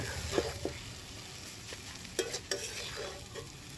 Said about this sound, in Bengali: ভালো করে মেশাতে হবে যেন প্রত্যেকটা চাউমিন এর সাথে ভালো করে মিশে যায়